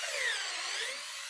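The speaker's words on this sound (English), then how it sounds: "drill holes into these logs" A wood drill bit bores into a log, giving a steady, close, high-pitched whirring grind that holds for over a second with no talk.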